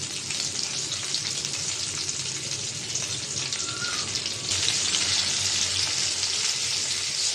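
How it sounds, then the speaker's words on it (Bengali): Nola fish, a haor river fish, sizzles steadily in a pan of hot oil, a dense continuous crackle that grows slightly louder midway, close and alone with no talk. "মাছটা উল্টিয়ে দেই, বেশি কড়া ভাজা দিব না।"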